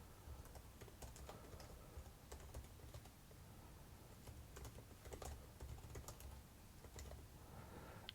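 Steady typing on a computer keyboard, a quick irregular run of soft close key clicks over several seconds, faint and without speech.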